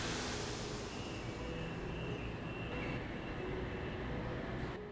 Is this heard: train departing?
yes